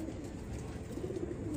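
Pigeons in a loft give a faint, low continuous cooing under a steady hum of background noise.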